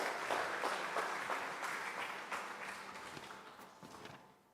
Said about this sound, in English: Let's give a big applause for Bima Satriatama.